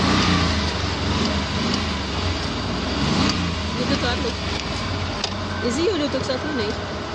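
A manual Suzuki Mehran being driven around an open ground, its engine droning steadily up close throughout while someone talks over it.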